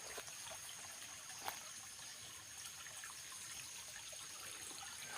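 A mountain stream trickles softly and steadily in the distance, a faint continuous wash of running water with one small splash.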